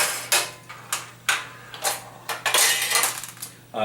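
A Nishijin pachinko machine is tapped and tilted, sending loose metal balls rattling inside in a series of about eight sharp, close clattering bursts at roughly half-second intervals over a faint steady hum.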